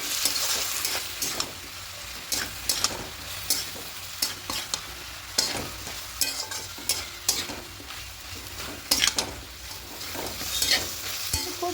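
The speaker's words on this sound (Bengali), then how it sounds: "এই পোস্তটা এখানে দিয়ে দেবো খুব ভালো করে মিশিয়ে নেবো" Poppy seed paste is stirred into mixed vegetables and bottle gourd greens in a pan, with a continuous sizzle broken by frequent sharp spatula scrapes and clinks against the metal, close and busy throughout.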